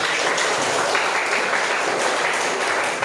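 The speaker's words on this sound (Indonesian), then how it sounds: "tepuk tangan." A class of students applauds steadily for a few seconds, a dense, even wash of many hands clapping at once.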